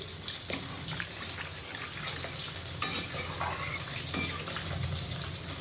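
Potatoes and okra in a spiced pan with water just added, a continuous bubbling sizzle and watery churning, punctuated by three sharp clinks of a spoon against the pot.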